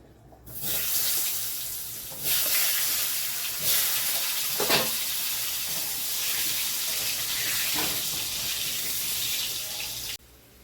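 Potatoes frying in hot oil for biryani, a loud, steady hiss and crackle that swells in abruptly, runs unbroken for about ten seconds, then cuts off.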